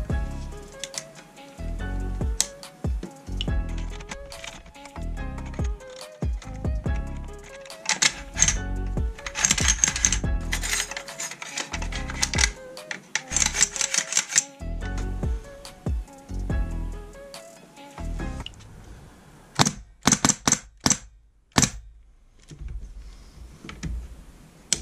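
A Daytona spring-powered airsoft gun with a repaired trigger group fires on full auto, sharp mechanical clicks in rapid bursts with short pauses between them, close and dry, with no talking.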